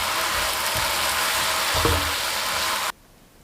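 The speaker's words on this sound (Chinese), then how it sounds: "继续翻炒均匀" Chives and scrambled egg stir-fried in a hot wok give off a loud continuous sizzle with a few spatula scrapes and knocks, then cut off abruptly near the end.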